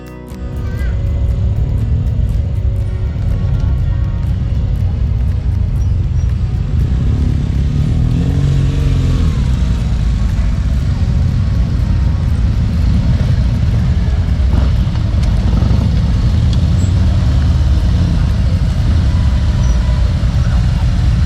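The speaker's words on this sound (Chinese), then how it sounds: "这个哈雷车队大老远就听到他们传出来的引擎咆哮声哈" A group of Harley-Davidson motorcycles ridden by Korean bikers arriving at a rest area near Mount Aso in Kyushu: a loud, continuous low engine rumble with revs rising and falling throughout.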